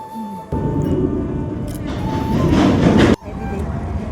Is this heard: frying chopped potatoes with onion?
no